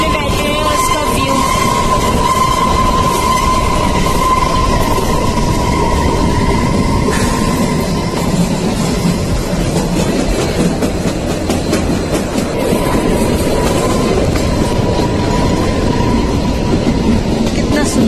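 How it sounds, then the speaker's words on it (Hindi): Kalka Shimla toy train rolling along its rails, a loud continuous rumble with steady clickety-clack and faint wheel squeal, heard from inside the carriage. "देखिए हम टॉय ट्रेन में बैठे हैं और उसका व्यू"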